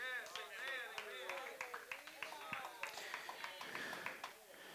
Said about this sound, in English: Give the Lord a hand clap of praise.